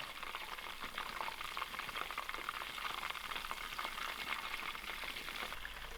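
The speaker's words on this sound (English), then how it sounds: "my paneer has risen to the top of the oil, so it's ready to give it a turn" Paneer cubes deep-frying in hot oil for restaurant-style chilli paneer, a steady dense crackling sizzle with constant bubbling that holds at an even, close level throughout, no voices.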